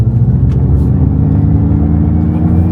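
A Ford Mustang Mach-E 2024 electric car, Chinese version, pulls away with a steady low rumble and faint whir, loud and close throughout.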